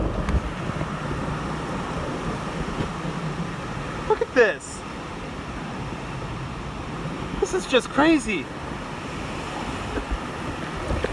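Heavy typhoon wind roars continuously with rushing water noise, loud and close, during Typhoon Hagibis in Tokyo; a person speaks briefly twice over it.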